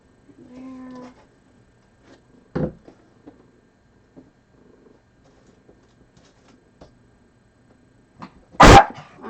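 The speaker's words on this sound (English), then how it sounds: "It wouldn't be a stream without Marley barking, right?" Marley, a dog, lets out a couple of isolated barks in a quiet indoor room during a woodcarving stream, one short bark early and a louder, sharper one near the end, with faint brief vocal sounds before.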